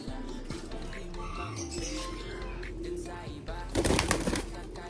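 Pigeons coo softly in a muddy loft area, low murmuring calls beneath background noise, followed by a brief burst of wing flapping or splashing.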